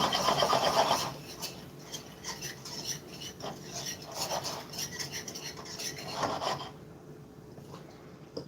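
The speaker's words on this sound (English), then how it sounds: "Now let's get the milk. Then we just stir it in." Milk being stirred into a cauliflower bake with a utensil, giving soft repeated scraping and rubbing strokes against the dish, close and fairly quiet, with no talking.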